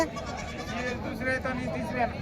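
Goats bleating at a busy livestock market, several wavering bleats overlapping through the whole moment, close and fairly loud, with crowd chatter and voices mixed in around them.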